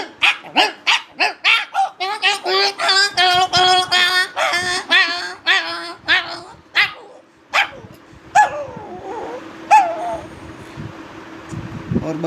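A man vocally imitates a big dog and a small puppy scrapping, with a fast volley of close barks and yaps, then snarling, yelping whines and growls tapering off into softer noises.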